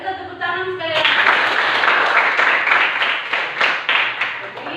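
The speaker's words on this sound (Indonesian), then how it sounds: "Mari kita tepuk tangan sekali lagi." Classroom of students clapping together, starting after a brief spoken moment and then holding as dense, lively applause close by for several seconds.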